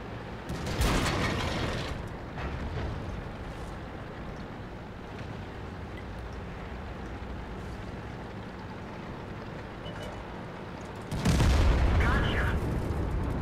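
Tank cannon fire in World of Tanks lands as two loud booming blasts, one near the start and one near the end, with a low engine rumble continuing between them and someone talking over it.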